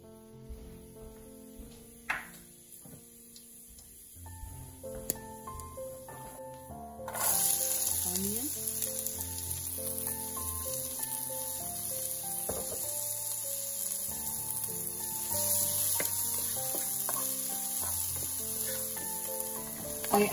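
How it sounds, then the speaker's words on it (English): Cumin seeds (jeera) hit hot oil in a heated pan while cooking turkey keema, bursting into a steady, fairly loud sizzle that carries on for several seconds after some earlier clinks and handling noises. "The pan is heated. Add some oil. Add a small spoon of jeera."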